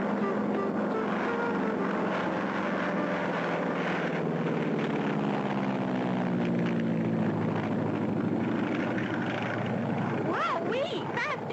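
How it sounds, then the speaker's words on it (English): A cartoon aircraft roars into a fast takeoff in a 1959 animated space-station episode, its engine droning loudly and steadily while the pitch sweeps across the whole stretch, with a character's voice briefly rising near the end. "Fast takeoff, Clutch."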